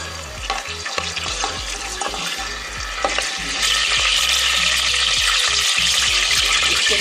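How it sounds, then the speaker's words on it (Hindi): Whole garam masala spices crackle and sizzle in hot oil in a pressure cooker, a dense steady frying hiss that grows louder midway, with occasional stirring clinks, no talking. "कुकर में हम सबसे पहले ऑयल डालेंगे, साबुत गरम मसाले ऐड करूँगी मैं"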